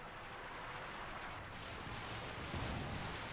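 Artillery barrage in Company of Heroes 2, a dense, continuous rumble of distant shell fire and explosions that stays steady and moderately loud for a few seconds, with no talk over it.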